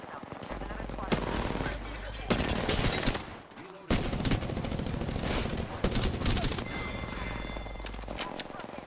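Heavy video game gunfire rattles in rapid automatic bursts and fusillades, loud and dense, pausing briefly before resuming, with players talking throughout.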